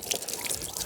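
Hose water sprays and splashes over the dirty engine of a Smart ForTwo, a close, steady hiss of spattering liquid with no talk over it.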